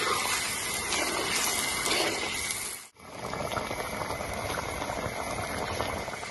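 Hot water poured into a simmering curry, a steady loud bubbling and sizzling that breaks off abruptly for a moment, then resumes as rolling boiling.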